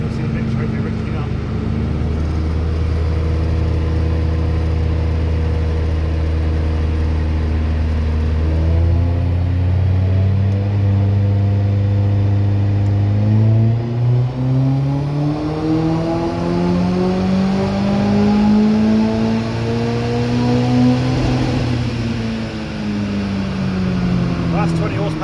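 Vauxhall Astra H VXR with an EFR turbo conversion running on a dyno, its engine climbing steadily in loud repeated revving sweeps with rising and falling harmonic tones, continuous throughout.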